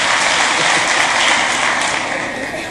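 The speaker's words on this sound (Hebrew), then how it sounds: "מותר למחוא כפיים, מה יש?" Steady crowd applause at a televised national song contest final, filling the whole stretch, dense and continuous at an even level, with no voices standing out.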